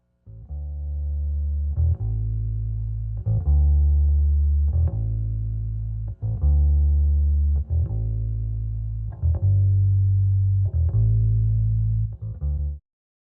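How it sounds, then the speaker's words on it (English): A dry bass amp track, free of effects, plays a repeating riff of long sustained low notes. Each new note starts with a sharp pick attack about every one and a half seconds, loud and close with no talking. "The bass amp track sounds like this,"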